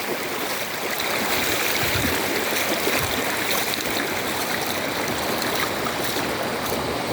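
The Daong River in Tanay, Rizal rushes steadily past, a broad, continuous hiss of flowing stream water, loud and close throughout with no voices.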